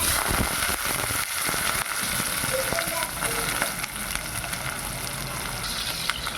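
Onions, green chillies, cumin and mustard seeds fry in a little oil in a pan, a loud continuous close sizzle with scattered crackles and pops throughout, no voices.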